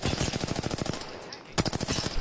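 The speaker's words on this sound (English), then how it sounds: "We're getting shot from behind." Rapid automatic gunfire in the video game Apex Legends during a ranked match, loud bursts of repeated shots, a brief pause, then another close burst.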